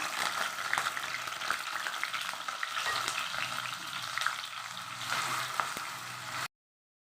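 Green chillies and curry leaves crackle and sizzle in hot oil in a kadai, with a steady, fairly soft frying hiss that cuts off abruptly near the end.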